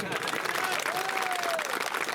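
Brief burst of crowd clapping at an outdoor election public meeting in Sonera, Ashoknagar, a continuous roar of hands mixed with voices and a short rising whistle.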